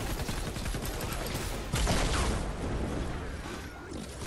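Broadsider cannon traps firing in Fortnite: a dense, rapid barrage of overlapping booms and cracks, loud and continuous, with a heavier burst midway.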